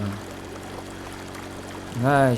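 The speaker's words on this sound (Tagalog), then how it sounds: "The water is draining fast. So fast." Water drains fast through a flood control project, a steady rushing pour and stream that runs unbroken from start to finish, with a voice briefly breaking in near the end.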